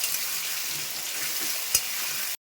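Potatoes fry with onions in a pan, giving a steady, close sizzle, with a single stirring scrape near the end before the sound stops abruptly.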